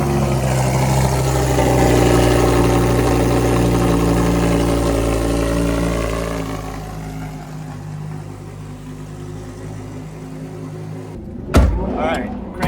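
A Mazda Miata engine running at a steady idle-like drone that fades after several seconds, followed by a couple of sharp knocks or slams near the end.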